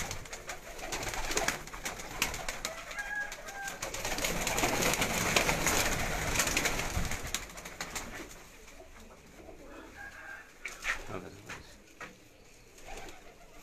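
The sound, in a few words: pigeons cooing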